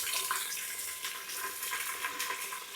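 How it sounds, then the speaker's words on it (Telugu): Onions and green chillies frying in a pan for a Mughlai biryani, a steady bright hiss and crackle of hot oil holding at an even level throughout, close up and alone, with no talking. "కొంచెం దోరగా వేగిన తర్వాత ఆనియన్స్ వేద్దాం, ఉల్లిపాయలు, పచ్చిమిర్చి"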